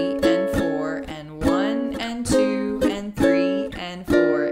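A ukulele plays measures 23 and 24 of a song, strummed chords ringing in a steady rhythm with sliding shifts between shapes, clear and close with no talking.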